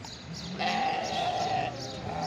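Young rams and sheep bleat at an Eid al-Adha livestock market in Marrakesh, one long nasal bleat close by, with a murmur of the crowd behind it.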